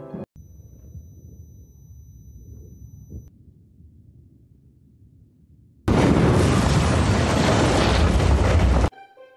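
A bomb explosion at a courthouse: a low rumble gives way to a sudden loud blast that roars for several seconds, then cuts off abruptly.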